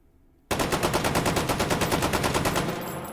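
Rapid automatic fire from a SCAR Mk 17 rifle fitted with a muzzle brake in the H3VR virtual-reality game, a loud, steady burst of evenly spaced shots starting abruptly and running continuously for about two and a half seconds.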